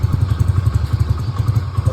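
An older Honda Beat scooter, being repaired for a starter fault, runs at a steady idle just after starting, its engine giving close, even thumping pulses with a light mechanical clatter and no talking.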